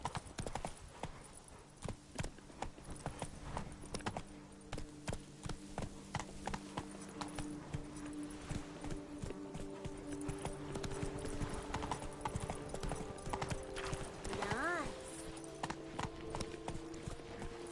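Roach the horse gallops in The Witcher video game, a steady rapid clip-clop of hooves running throughout with a brief whinny near the end, over faint in-game music and ambience.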